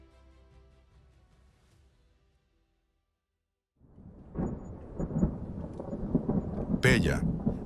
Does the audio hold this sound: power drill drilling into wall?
no